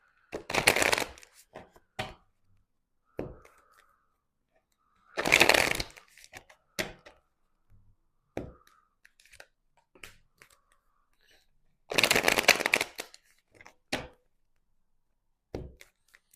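Tarot cards being shuffled in three loud, dense bursts of riffling with scattered soft taps and card handling in between, close and without speech.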